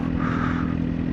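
A CFMOTO 750SR-S motorcycle engine lugs at low revs in sixth gear, a loud, steady, close drone with a rough clattering edge, alone without voices.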